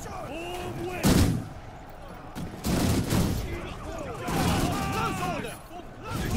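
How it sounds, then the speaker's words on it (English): Musket volleys in the video game Conqueror's Blade, several booming crackling bursts of massed fire spaced a second or two apart, mixed with shouted battle commands. "Volley fire!"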